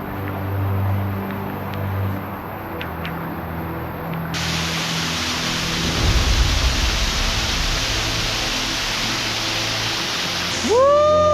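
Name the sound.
rain falling at a waterfall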